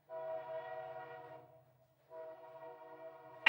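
A passing train lays on its horn in two long, sustained blasts separated by a short pause, heard from a moderate distance and fairly faint.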